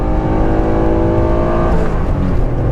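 A Honda car's engine revs loudly toward its 8,000 RPM redline, its tone climbing steadily before the pitch drops away near the end.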